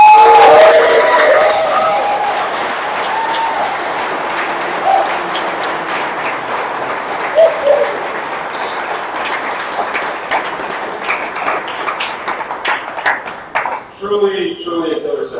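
Applause from friends and family after student capstone presentations, a loud burst of crowd clapping and cheering at first that thins into scattered claps and taps, with people talking over it toward the end.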